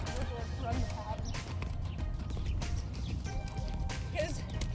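Horse hooves clip-clop steadily as the horse runs a riding pattern, close and continuous under a busy background with people talking throughout.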